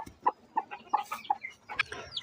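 Six young chickens kept together with a quail chick cheep and cluck in quick, irregular soft calls, close and fairly quiet, with no talking.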